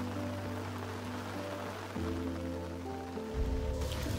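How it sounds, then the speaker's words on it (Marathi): Heavy rain falling steadily in dense Maharashtra forest on a muddy trail during the Andharban trek, a constant broadband wash with a vehicle-like low hum underneath that shifts partway through. "आता वाटेमध्ये खूप सारा चिखल आणि वरून धो पाऊस पडत होता"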